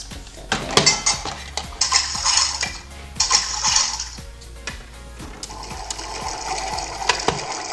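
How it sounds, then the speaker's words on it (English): Water in a toy pot of a Cook N Learn Smart Kitchen bubbles with a steady ticking rhythm, overlaid by repeated bursts of hissy, fizzing noise rising and falling. "Hear that bubbling?"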